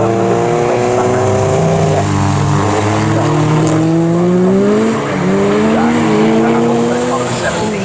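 Club race cars racing at Snetterton, engines rising and falling in pitch as they pass, with a steady loud roar under commentary and a dip in the noise partway through.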